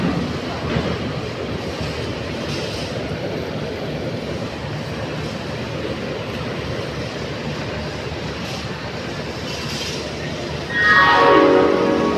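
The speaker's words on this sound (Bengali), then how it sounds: "কুলিক এক্সপ্রেস এগারো নম্বর প্ল্যাটফর্মে ঢুকে পড়েছে" A steady rumble of the Kulik Express rolling into platform 11, with a loud horn sounding near the end as it draws closer.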